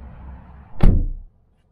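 A single door of a 2020 Subaru Legacy shuts with a dull, hollow thud, close by, after a low rumble of background noise, then quiet.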